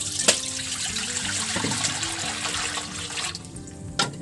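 Water is poured into a kawa, a cooking pot set on for boiling pasta, in a close, gurgling stream with a sharp splash at the start and another near the end.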